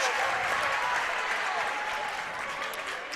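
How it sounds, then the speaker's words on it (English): Sold-out crowd of over 500 applauding in a packed high school basketball gym, a steady dense wash of clapping that holds loud throughout and eases slightly toward the end. "It is a sold-out, blackout crowd here at Hill Murray."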